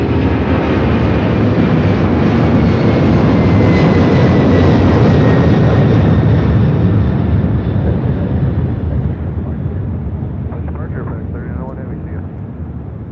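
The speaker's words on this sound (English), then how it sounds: "we got the MD-11 rolling down to 5 left" An MD-11 jet rolls down runway 5 Left at LAX with a loud, steady roar that swells, then slowly fades as it moves off, the rumble holding throughout.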